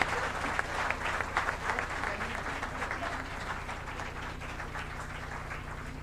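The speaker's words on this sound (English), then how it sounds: "A thunderous round of applause for the winners" An audience applauds prize winners at a moot court competition's prize distribution ceremony, steady dense clapping sustained for the full stretch at moderate level with no break.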